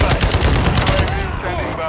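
Loud, close automatic gunfire from the Call of Duty Modern Warfare II video game, a rapid burst of shots for about a second that cuts off and leaves a fading ring.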